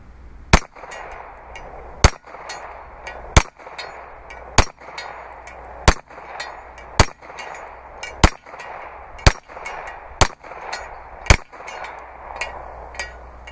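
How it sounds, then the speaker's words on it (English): Steel target plate ringing from handgun shots fired at a little distance, about a dozen sharp metallic clangs at steady intervals of roughly a second, each with a bright ringing tail, over a low background hum. "Just want to hear how the plate rings."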